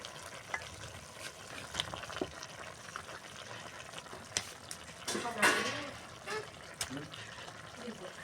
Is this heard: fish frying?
yes